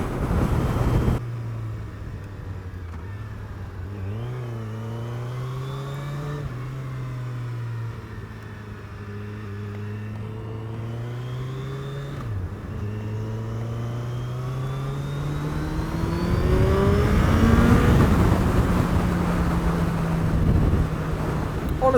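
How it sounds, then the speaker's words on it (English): A 2021 Suzuki Hayabusa motorcycle engine revs as the throttle rolls open, its steady droning tone climbing in pitch and getting louder over several seconds, heard close over heavy wind rush while riding. "I'm just going to roll the throttle on."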